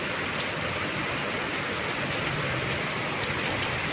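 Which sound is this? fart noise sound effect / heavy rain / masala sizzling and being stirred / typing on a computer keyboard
heavy rain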